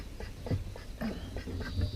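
Ducks near a wooden duck coop give a few short, low quacks spaced about half a second apart, moderately close over faint outdoor background noise.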